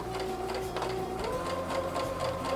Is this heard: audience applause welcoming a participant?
no